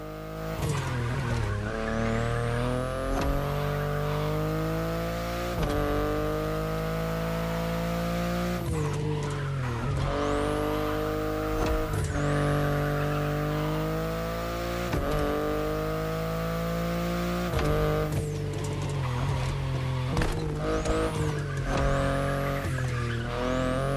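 A BMW i8 sports car driven in The Crew Motorfest, its engine climbing repeatedly through the gears with sharp shift breaks every few seconds, loud and continuous, with occasional tire squeal.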